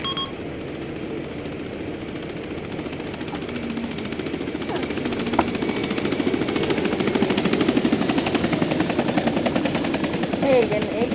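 In the video game Arma 2, a helicopter's rotor thrum grows louder across the stretch, with a brief sharp bang partway through and players' radio chatter and talk mixed over it.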